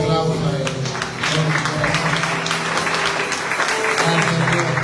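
A church congregation applauding during a Spanish-language service, steady close clapping running the whole stretch under voices and a low sustained tone.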